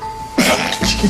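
A short, sharp sneeze bursts out close by, followed quickly by a second explosive breath.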